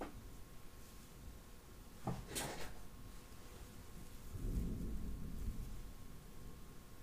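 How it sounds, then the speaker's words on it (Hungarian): Thunder rumbles outside: a sharp crack-like burst comes first, then a deep, rolling low rumble swells a few seconds later and fades, distant and moderately loud against quiet background noise. "Itt dörög az ég amúgy, de jó idő van."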